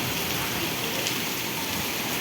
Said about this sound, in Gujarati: અતિ ભારે વરસાદ પડી રહ્યો છે.